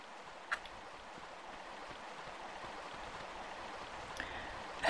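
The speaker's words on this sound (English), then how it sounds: "Listen to those streams." Flowing streams in the Lost Valley level of Tomb Raider (1996) give a faint, steady watery hiss throughout, with a couple of brief clicks and no talking.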